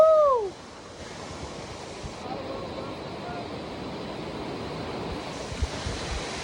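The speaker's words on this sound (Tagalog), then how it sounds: "nabutan naman yan ng Gabaw Falls, sa Lagunoy" Gabao Falls in Lagonoy pours in a steady, broad roar of rushing water that fills the whole clip, after a brief excited shout at the start; wind buffets the microphone.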